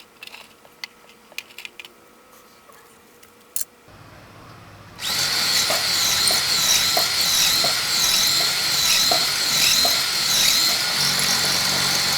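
Quiet clicks and taps give way to a loud power drill whirring steadily and close by, boring mounting holes for a sprinkler controller continuously for several seconds.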